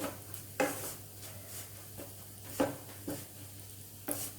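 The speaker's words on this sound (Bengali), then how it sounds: "এইভাবে গ্যাসের আঁচ কমিয়ে দিয়ে ঘিয়ের সঙ্গে বেসনটা নাড়াচাড়া করাতে" Gram flour (besan) being stirred in ghee in a pan over low heat for mohanthal, with rhythmic scraping strokes about every half second to second over a soft background sizzle.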